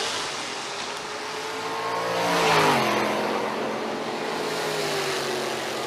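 A 1975 Jeep Cherokee with a turbocharged late model Hemi and a stick shift passes at a drag event, its engine note rising as it accelerates, peaking at mid-clip and sliding down as it moves away.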